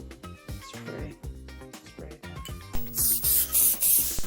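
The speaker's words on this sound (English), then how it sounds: "So you spray it down." A run of quick hissing spray bursts from a spray bottle of homemade natural cleaner, pumped several times in a row over steady background music.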